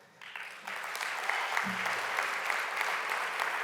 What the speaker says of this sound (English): Definitely deserving of applause.